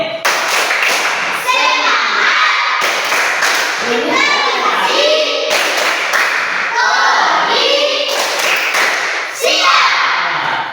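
Children in a class chant together and clap in patterned rhythmic groups, crisp bursts of hand claps alternating with unison chanting, repeated several times up close.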